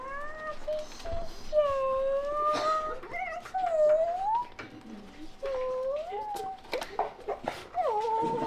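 Dogs whimper and whine in high, drawn-out rising and falling cries, close and fairly loud, repeating throughout with brief pauses between calls.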